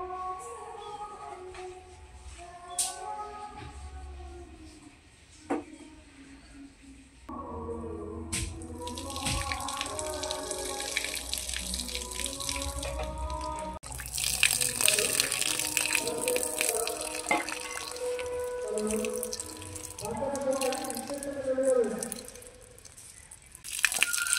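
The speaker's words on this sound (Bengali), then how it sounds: "ডাল ধোয়ার পরে কাউন চালটাকে ধুয়ে দেব। এরকম একটা নেট নিয়েছি, এখানে ঢেলে দিচ্ছি।" Foxtail millet rice being washed in a mesh strainer, heard up close as running water and wet rustling and sloshing that grows louder midway, with faint clinks and a bit of background voice.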